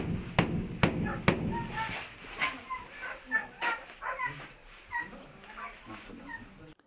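Several dogs, about 30 kept in a one-room apartment, bark and yip in quick, uneven bursts, some sharp and near, others fainter, with whimpering between the barks.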